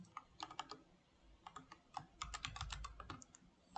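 Quick bursts of computer keyboard typing: clusters of crisp, close clicks in an uneven rhythm with short pauses, quiet overall and with no voice over them.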